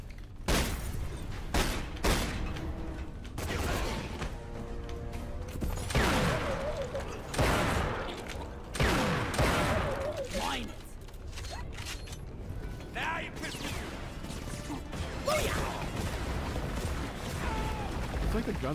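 Gunfire in the video game Dark Athena: repeated bursts of fairly muted shots and booms with mechanical clanks throughout, under near-constant talking.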